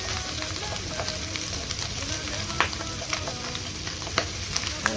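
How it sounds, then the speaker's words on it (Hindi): Lobster in butter sizzles on a hot griller, a steady crackling hiss with occasional sharp pops, while someone talks over it. "now I am putting my lobster upside down क्योंकि मुझे मीट कुक करना है"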